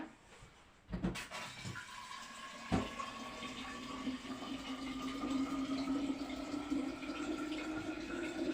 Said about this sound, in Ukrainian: Набираємо знову літр води.